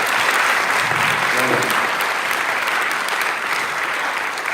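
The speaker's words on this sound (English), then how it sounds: "Could you give them another round of applause?" A college concert audience applauds a wind ensemble and civic orchestra with sustained, even clapping that fills the room, and a brief voice is heard early under it.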